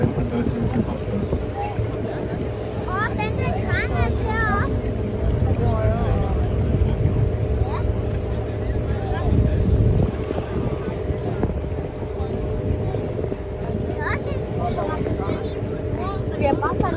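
Sightseeing boat sailing in Copenhagen harbour near the opera house, a continuous engine rumble under heavy wind buffeting, with people talking over it throughout.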